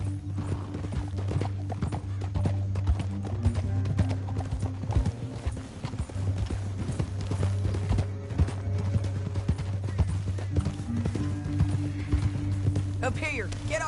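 Horse hooves clip-clop at a steady gallop in the Western open-world game Red Dead Redemption 2, a continuous rhythmic drumming carried under game music and spoken dialogue, with a horse whinny near the end.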